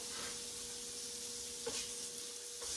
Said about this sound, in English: I'm going to put my patties in those as it's cooking, flipping them